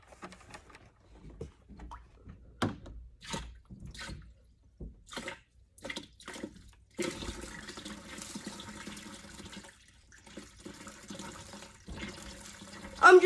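Water is poured into a new aquarium tank, starting as scattered irregular splashes and drips, then becoming a continuous trickling pour, close and fairly quiet.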